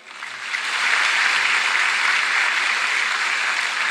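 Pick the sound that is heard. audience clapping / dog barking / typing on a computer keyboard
audience clapping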